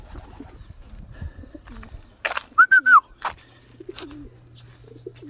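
A homing pigeon arriving at its loft during evening homing training, giving a short burst of soft cooing calls over quiet outdoor background, with brief nearby flapping and rustling.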